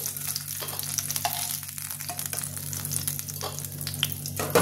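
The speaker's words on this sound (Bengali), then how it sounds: "এবার আমি মাছটা ভাজবো। তেলটা আমার গরম হয়ে গেছে, মাছগুলো আমি ছেড়ে দেবো।" Fish fries in hot oil in a pan, giving a continuous close sizzle with scattered crackles and occasional scrapes of a spatula, and no voices over it.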